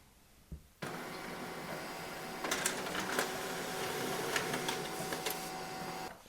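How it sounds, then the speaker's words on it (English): An HP LaserJet MFP M234sdw printer starts up after a faint click, then runs a steady whirring print cycle with rising mechanical rattles, close and alone without talk. "Then press the print button."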